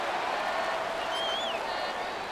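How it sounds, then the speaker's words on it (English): A stadium crowd in Madden 26 roars steadily, a broad, distant wash of shouting and cheering that holds at an even level, with a faint whistle-like tone rising briefly through it. "Plenty of shouts from this crowd as they watch the replay."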